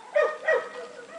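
A small dog gives two quick, sharp barks close by, followed by a softer trailing yelp, all within about a second.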